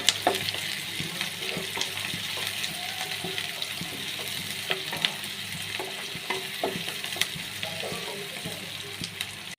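Onions and green chilies frying in oil with mustard seeds and cumin, stirred in the pan: a continuous sizzle with scattered scraping clicks of the spoon and faint background speech.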